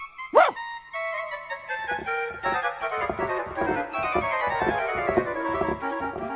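A little dog in a cartoon train story gives a few sharp, close yips and barks over a bright, tuneful orchestral score, the sounds spaced irregularly across the passage.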